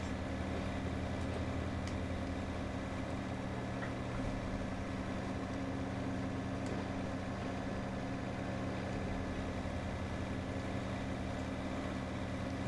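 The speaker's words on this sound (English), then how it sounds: "Noisy reefer engine." In the video game Run 8, a refrigerated railcar's reefer engine runs steadily, a constant low droning hum with a mechanical rumble that holds unchanged throughout, moderately loud with no talk.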